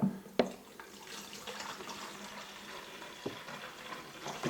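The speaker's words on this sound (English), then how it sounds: "now we need to fill our keg up to the 1 gallon mark with our sanitized water." Spring water is poured into the keg of an iGulu F1 craft beer machine, a soft continuous splashing trickle, fairly faint, with a few sharp knocks of plastic handling.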